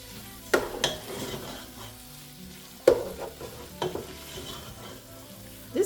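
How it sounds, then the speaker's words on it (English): Rice being stirred in a pot with beef and garlic for Kenyan pilau, giving a steady scraping and sizzling with a few sharper clinks of the utensil against the pot, close and moderately loud. "We will stir this for a little bit."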